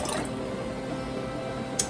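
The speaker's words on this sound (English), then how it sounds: "I'm going to pour that in here to make our sauce with" Broth is poured into a pan to build the sauce for a Southern-style Salisbury steak, a steady close liquid pour with soft splashing and dripping and no talk over it.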